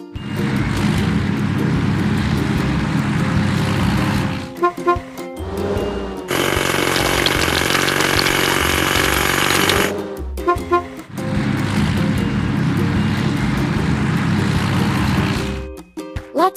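Rapid hydraulic hammering breaking rocks in a video game, long bursts of buzzing, rattling pounding broken by short pauses and electronic game tones.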